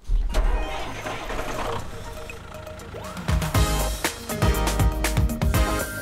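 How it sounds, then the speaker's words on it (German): A vehicle engine starts in New Pokémon Snap, a loud crank and turnover followed by clattering mechanical bursts and a rising engine rumble, with game effects layered over it. "Ich starte den Wagen, ja?"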